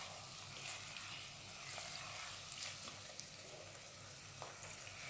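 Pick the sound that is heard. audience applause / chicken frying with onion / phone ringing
chicken frying with onion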